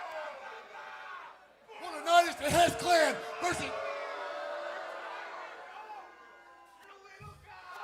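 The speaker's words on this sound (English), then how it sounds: "Every time Hess speaks, the crowd responds." Crowd at a live wrestling event roars and shouts back in a loud burst, then settles into a sustained murmur while someone talks over the noise throughout.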